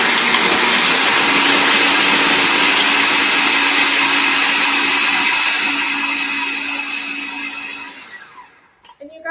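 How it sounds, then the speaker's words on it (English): A Hamilton Beach food processor whirs steadily at high speed, blending raw vegan cashew pesto, loud and close for most of the run before winding down and cutting off near the end. "this Hamilton Beach food processor, it's so easy"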